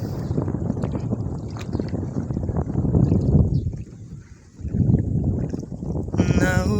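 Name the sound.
boatman rowing a boat across a river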